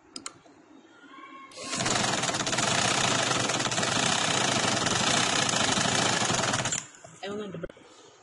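A sewing machine stitches a double seam on a one-year-old's baby frock, whirring loudly in one continuous run of about five seconds, with a voice briefly before and after.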